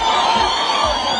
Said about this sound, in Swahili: mpigie makofi wakati anakuja